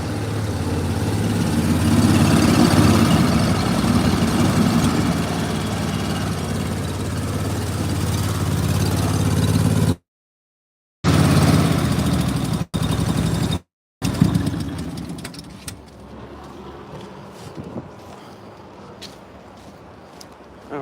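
A pressure washer engine at a nighttime job runs loud and steady, then is throttled down, its roar dropping through brief gaps to a quieter idle rumble toward the end.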